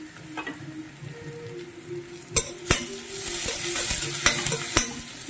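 Semolina (rava) dry-roasting in a pan for upma, with a faint crackle under sharp metal spoon clinks and scrapes against the pan at irregular intervals and a rising hiss in the second half, no voices.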